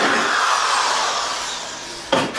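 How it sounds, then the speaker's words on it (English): A power drill runs continuously as it bores drain holes in an insulated cat shelter, a loud whirring grind that slowly tapers, then ends with a short sharp knock near the close. "I'm going to drill a couple of drain holes."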